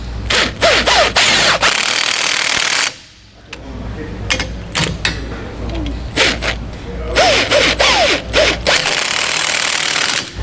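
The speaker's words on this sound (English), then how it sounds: "then we can go back and tighten down our hardware" Hardware being tightened down while installing a Kodiak disc brake kit on a 2021 Vanleigh Beacon fifth wheel: repeated ratcheting clicks in bursts, close and fairly loud, with a short pause midway and faint voices in places.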